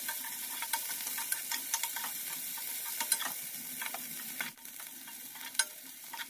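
Kinema, fermented soybeans, fries in a pan with a soft continuous sizzle while being stirred, bringing close scraping and clicking of the utensil against the pan.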